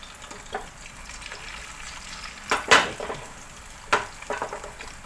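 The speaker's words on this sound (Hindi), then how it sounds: "अब इसके अंदर एक ऑमलेट हमें फ्राई करके निकाल लेना है।" An omelette fries in a pan for a street-style chicken fried rice, giving a low steady sizzle with a few louder crackling bursts and scraping touches, close and moderately quiet, no talking.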